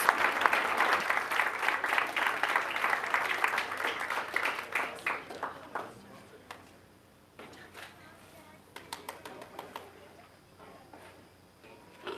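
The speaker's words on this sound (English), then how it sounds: "Another round of applause for our first place winners." A round of applause from an audience at a school governing board meeting for first-place winners, loud and sustained for about five seconds before tapering off into a few scattered claps.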